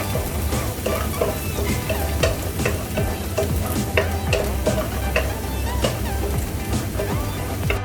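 Garlic frying in a pan for pancit canton, a steady close sizzle with frequent stirring scrapes and light clinks throughout, no voices.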